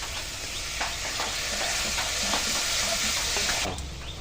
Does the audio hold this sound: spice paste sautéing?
yes